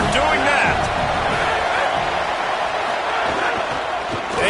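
A dense stadium crowd roars and cheers continuously in an NCAA football video game, a broad wash of far-off noise with commentary voices talking over it.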